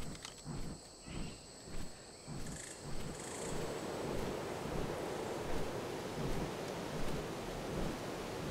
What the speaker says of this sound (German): Hör ich die Wasserfälle von hier schon?